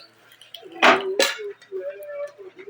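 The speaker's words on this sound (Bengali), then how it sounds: "এবার আমি উনানে কড়াই বসিয়ে দিলাম।" A metal kadai is set down on a stove with two sharp clanking knocks in quick succession, close and loud, amid a voice talking in the kitchen.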